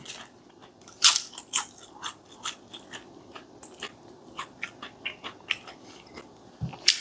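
Crispy breaded fast-food onion rings from Hungry Jack's being bitten and chewed up close, giving sharp crunches in irregular bursts over about seven seconds with no talking.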